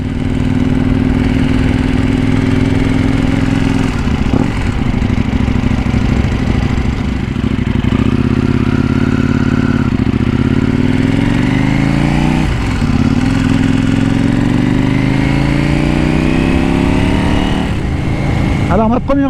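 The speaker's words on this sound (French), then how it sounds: "pour laisser chauffer la moto déjà." A KTM 790 Duke motorcycle engine runs while warming up, a steady close engine note with shifting pitch sweeps and mild revving as the bike moves off, under wind noise.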